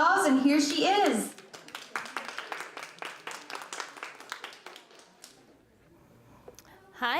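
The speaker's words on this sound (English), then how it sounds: "So if you could just give her a round of applause, and here she is." An audience gives a round of applause to welcome a guest speaker before a talk on sea turtles and marine debris, with a few seconds of scattered, moderate clapping following a brief stretch of speech.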